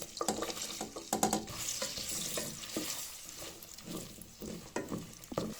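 Sliced carrots sizzle in hot melted butter and olive oil for a Balkan chorba soup, a steady frying hiss broken by repeated scraping stirs and clinks of a utensil in the pan.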